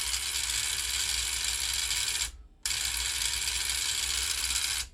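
A repaired cassette deck mechanism grinds with a harsh, continuous mechanical rattle when play is pressed, loud and close, cutting out briefly midway before resuming unchanged.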